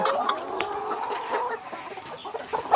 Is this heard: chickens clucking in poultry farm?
yes